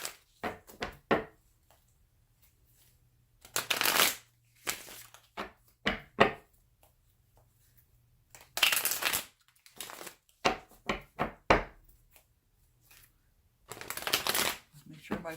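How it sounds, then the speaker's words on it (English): Tarot cards being shuffled by hand in repeated riffling bursts, close and crisp, separated by quiet pauses and a few light taps. "I'm still shuffling the cards"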